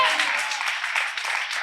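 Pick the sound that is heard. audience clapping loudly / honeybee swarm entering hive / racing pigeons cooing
audience clapping loudly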